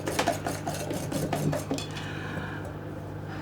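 Lemon tart filling is whisked briskly in a bowl, with a run of rapid scraping and clinking utensil strokes up close that fade into a quieter hum.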